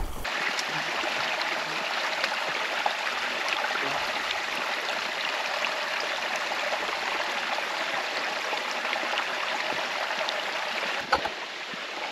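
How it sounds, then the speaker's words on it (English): A fresh, cold jungle stream flows nearby with a constant rushing, trickling wash that stays even throughout and has no voices over it. "A nice stream in the jungle."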